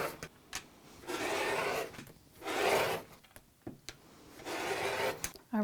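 A sewn fabric potholder square is trimmed in three rasping, rubbing cutting strokes, each about a second long, close up, with light clicks and handling noises between them.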